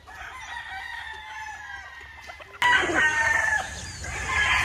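Gamefowl roosters on a farm crow repeatedly, with one loud, close crow bursting in midway over a background of clucking and other distant crowing birds.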